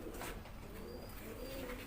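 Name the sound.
pigeon cooing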